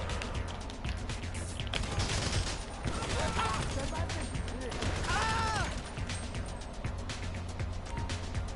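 Bursts of gunfire crackle through an online shooting match in Grand Theft Auto V, with rapid volleys, some mechanical clatter, and a player talking over the action.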